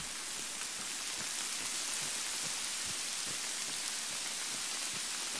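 Steady rain falls in a zombie survival video game, a dense, even hiss with soft scattered droplet taps, continuous and fairly quiet with no talk.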